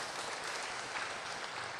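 Applause from a lecture audience at a talk on keeping a good heart, a steady, dense wash of clapping heard alone at moderate level for a short stretch.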